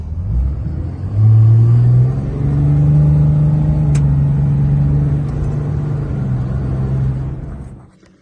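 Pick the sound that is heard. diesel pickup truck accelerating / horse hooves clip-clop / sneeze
diesel pickup truck accelerating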